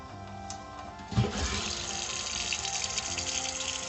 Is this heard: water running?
yes